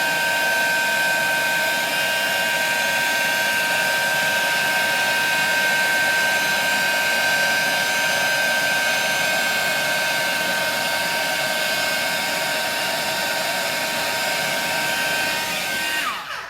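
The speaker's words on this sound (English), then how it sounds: "As it changes, move your heat gun away." A heat gun blows continuously for the whole stretch, melting embossing powder on a craft project, a steady close whooshing hum with no pauses and no talk.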